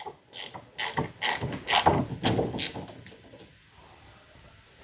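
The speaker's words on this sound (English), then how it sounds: "Break this nut loose." A ratchet wrench breaks loose a 5/8 nut on a through-frame slide motor bolt, giving six or seven loud, close bursts of rapid clicking in a steady rhythm before the sound trails off.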